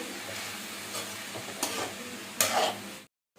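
A tempering for gongura dal fries and is stirred in a pan, a low sizzle broken by a few louder scraping stirs, ending abruptly in silence.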